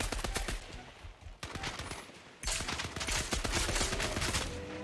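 Rapid bursts of automatic gunfire from a teammate in a video game, dense cracking volleys that dip briefly and then return louder, close and continuous.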